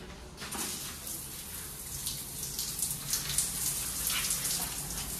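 A shower running in a hotel bathroom before a swim in Bangkok, water spraying and pattering steadily onto the floor in a continuous hiss, with no talking.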